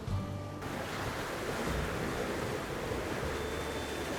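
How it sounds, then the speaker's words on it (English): Ocean waves washing in and out on a foggy shore, a steady loud roar of surf and wind with no talk, the wash building and receding continuously. "I'm waiting for some water to come in and push back out again"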